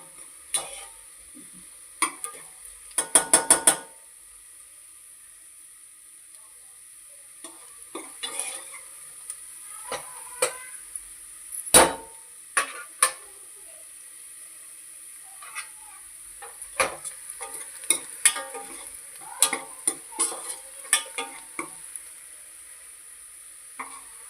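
Onions frying in a cooker give a faint, low sizzle beneath sparse, irregular scrapes and metallic clicks of a spoon stirring against the pot, with a quick rattle burst early on.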